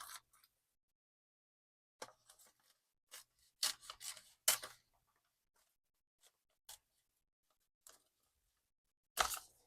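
Scissors cut through a tote bag in a series of separate crisp snips spaced irregularly, with quiet pauses between them and no talking.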